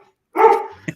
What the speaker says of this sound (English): My dogs say it's time to wrap it up